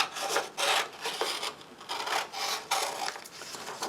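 Paper being trimmed by hand around a roughly 8 by 8 inch wooden board for transfer art, heard as repeated rasping, rubbing cuts in irregular bursts, close and moderately loud with no talking.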